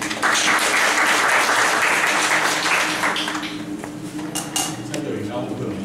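A lecture audience applauds to welcome a speaker: loud, dense clapping fills the room, easing slightly toward the end amid a few clattering knocks.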